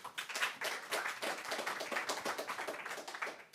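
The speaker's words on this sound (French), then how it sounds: "On peut les applaudir chaleureusement, tous les deux." Warm applause from a conference audience at the Paris Saclay Summit, steady dense clapping with distinct claps audible, moderately near, no talk over it.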